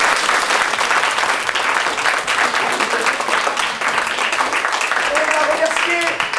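Sustained audience applause fills a French hall from start to finish, loud and dense with many hands clapping steadily, and faint tonal voices or whistles rise briefly near the end.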